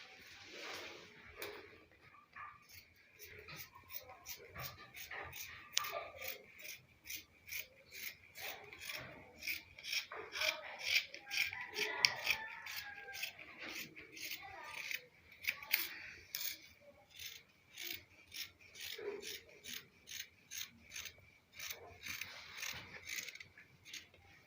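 Scissors cut fabric for a kimono bubu dress in a long series of steady, rhythmic snips, close and fairly quiet, with occasional faint rustling of cloth between cuts.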